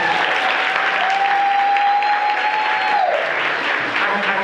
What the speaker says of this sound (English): clap it up for Ho.